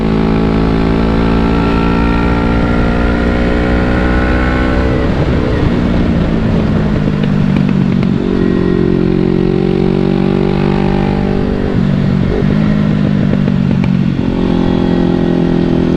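Motorcycle ridden at speed on the Isle of Man TT course on open roads, engine loud and close throughout, revving up through the gears with sharp shifts and a dip around a badly timed change with clutch slip.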